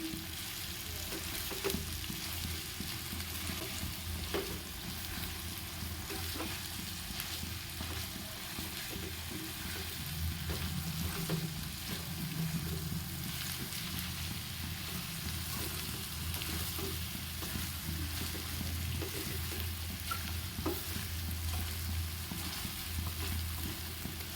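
Chicken fries in a pan with a constant close sizzle for over twenty seconds, broken by intermittent scraping stirs and no talk.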